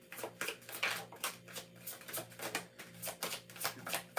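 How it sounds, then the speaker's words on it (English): A tarot card deck is shuffled by hand during a reading, rapid rhythmic riffling bursts repeating close to the microphone, quiet and without talk. "I like the way this deck shuffles"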